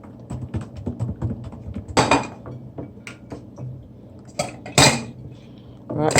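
A metal spoon clinks and scrapes against a container while sugar is added to cherry plum juice, a string of close, irregular taps and a few sharper knocks with no talk.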